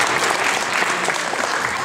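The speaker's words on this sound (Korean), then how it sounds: "박수 쳐주세요." A children's church audience claps together in a brief burst of dense, even applause that fills the room.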